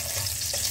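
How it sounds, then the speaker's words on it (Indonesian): Garlic stir-fried in a hot pan gives a brief, steady sizzle with a faint wet hiss, close and even throughout. "Oke, bawang putih di ongseng."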